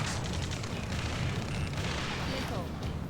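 Gunfire and explosions in the combat video game Ace Combat 7, a dense, continuous barrage of booming shots and blasts, loud and close throughout.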